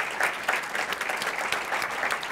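An audience gives a round of applause for panel guests at a museum talk, a steady, even wash of many hands clapping at moderate distance throughout.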